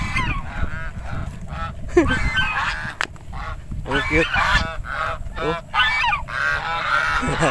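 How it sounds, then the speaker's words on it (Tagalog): Repeated nasal honks from a goose, fairly close, with a person laughing and speaking briefly between calls. "may gansa oh"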